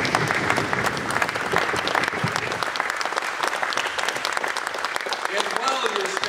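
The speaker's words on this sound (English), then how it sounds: "I invite you to stand and applaud yourself and all those who have been working for it" Standing audience applauding at an Emmanuel College NCAA press conference, steady dense clapping throughout from a sizable crowd, loud and continuous with faint voices mixed in.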